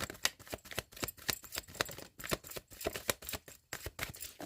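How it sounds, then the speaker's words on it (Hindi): Tarot deck shuffled by hand, a close, continuous flurry of rapid riffling card slaps and soft flicks for several seconds with no talk. "Last shuffle."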